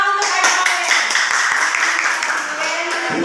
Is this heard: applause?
yes